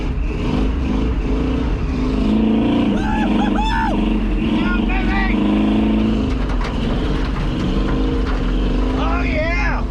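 A 1977 Chevrolet 4x4 truck engine revs and accelerates in steady, loud bursts with a rough rumbling tone, and people talk over it intermittently.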